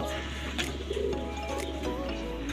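Racing pigeons coo softly over a steady low hum, with a few faint flutters and chirps scattered through the short stretch.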